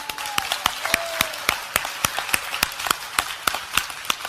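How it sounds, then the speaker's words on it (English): A congregation claps at a church service, steady sharp hand claps ringing out loud and close in a loose, repeated rhythm throughout. "Let's give a good clap to Pastor Elizabeth."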